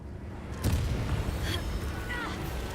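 Incendio and Expelliarmus spell blasts fired in the video game Hogwarts Legacy land as a booming burst followed by whooshing magical zaps and rumble, close and loud, with voices talking over the action.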